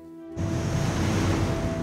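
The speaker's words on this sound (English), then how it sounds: "With the tide still rising and the waves growing bigger" Rough sea waves surging as the tide rises, a broad roaring wash that bursts in suddenly after a quiet tonal hum and stays loud and continuous.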